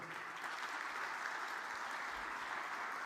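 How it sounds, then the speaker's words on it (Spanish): Steady applause from a conference audience greets a panelist at an event on transforming Santiago, broad and even for about three seconds with no voices over it. "Por favor, un aplauso para Paola Girón."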